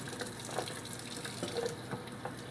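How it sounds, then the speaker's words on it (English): Warm water runs steadily from a tap into an old glass bottle at a sink, a soft continuous splashing stream with faint gurgles, fairly quiet. "Let's put a little water in there."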